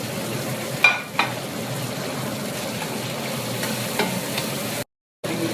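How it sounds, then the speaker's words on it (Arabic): Vegetables sautéed in a pan with onion and garlic for grouper fish stew, a steady loud sizzle with a couple of sharp spoon knocks early on and a brief dropout near the end. "والحين بحمس الخضرة مرة ثانية."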